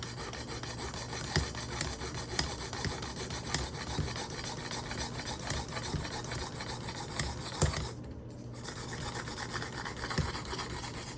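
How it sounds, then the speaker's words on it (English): A knife blade being ground back and forth on a Work Sharp Precision Adjustable Knife Sharpener gives a steady, close rasping rub with rhythmic strokes and a brief pause near the end. "I want to keep grinding this knife until I develop a burr."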